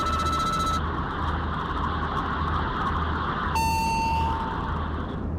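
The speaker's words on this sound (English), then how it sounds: "an alarm sounds in the cockpit" A cockpit alarm sounds inside an airliner as two tonal chimes, one at the start and another partway through, over a steady loud roar of engine and cabin noise.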